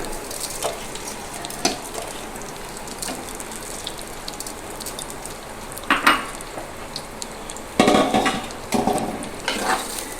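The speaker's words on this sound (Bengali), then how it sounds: "চালগুলোকে আমি এইভাবে হালকা করে ভেজে দেব" Rice coated in ghee and ginger juice fries lightly in a pan for Bengali basanti pulao, a soft continuous sizzle broken by scraping stirs and sharp utensil knocks against the pot, loudest near the end.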